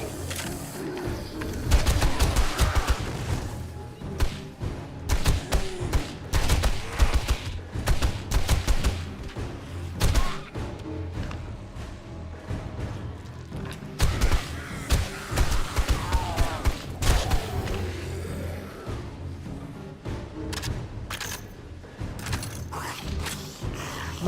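Gunfire from the survival game 7 Days to Die, a dense, continuous barrage of loud sharp shots with mechanical clicks and clatter throughout, fairly close and busy from start to finish.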